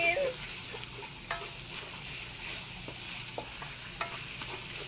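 Onion and garlic sizzle steadily in a pan while being stirred, with faint scrapes and taps of the utensil now and then over a continuous frying hiss, close and moderately quiet.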